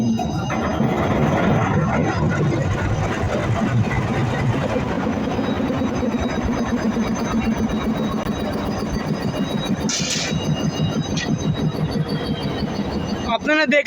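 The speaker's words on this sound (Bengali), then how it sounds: "এটা উপরে যেই টান মারলো অমনি ইঞ্জিনটি স্টার্ট হয়ে গেল" A train locomotive's engine starts and then idles with a steady, dense rumble and mechanical clatter, close and loud throughout, with a brief hiss near the end.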